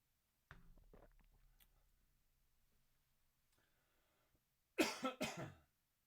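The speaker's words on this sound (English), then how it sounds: "Apologize for the coughs" A few harsh coughs near the microphone, first a weaker cough early on, then a loud burst of two or three coughs toward the end after quiet.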